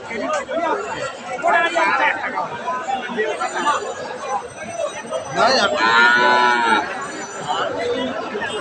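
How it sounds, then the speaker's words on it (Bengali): A Friesian cow lows once or twice at a busy cattle market, the moos rising out of constant crowd chatter and overlapping voices of buyers and sellers nearby. "এই যে আমরা এই গরুটা দেখছিলাম, এটা একটা ফ্রিজিয়ান জাতের গাভী"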